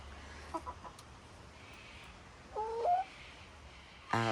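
Backyard chickens in an Omlet coop and run giving a few soft, short clucks and one brief louder call, faint and close, over quiet outdoor ambience.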